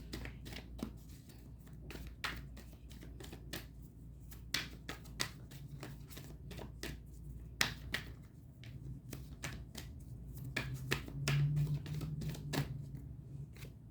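Tarot cards being shuffled and pulled from the deck, a run of short, crisp snaps and flicks at an uneven rhythm, close up over a low steady hum with no talking.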